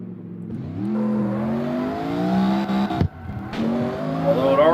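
A Corvette engine in the CarX Street racing game revs loudly and rises in pitch, briefly cuts out midway, then climbs again, close and with no talk over it.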